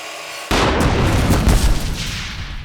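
A miter saw slices through PVC pipe being cut into plant-tower pieces, kicking in abruptly with a loud, harsh, broadband roar that holds steady for about two seconds with rougher surges partway through.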